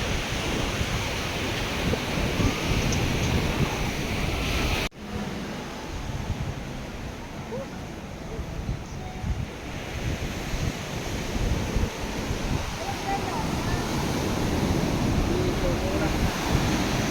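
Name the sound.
sea waves at Sarangani Bay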